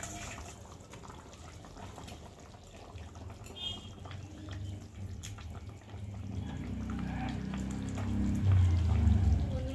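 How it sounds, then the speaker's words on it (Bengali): Hilsa fish pieces tip into a pot of simmering potato and eggplant curry, with a low continuous bubbling that swells into thicker, louder sloshing toward the end. "আর এখন আমি এই যে মাছগুলো ঢেলে দেবো"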